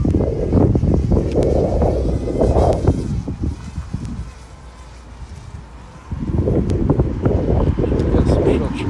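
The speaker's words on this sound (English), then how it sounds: "It's getting a little bit breezy, that's all." Outdoor gusts buffet a microphone in loud, low rumbling bursts that ease off into a brief calmer stretch midway, then return just as strongly.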